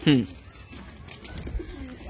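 Pigeons coo in a loft of Andhra-breed racing birds: a loud, close burst of low throaty cooing at the start, followed by fainter rustling and bird sounds with people talking quietly in the background.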